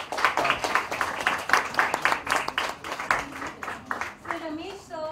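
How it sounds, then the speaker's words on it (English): An audience claps in applause for guests at a Bollywood event, steady mid-distance clapping throughout with a voice speaking over it near the end. "Can we have a huge round of applause for them?"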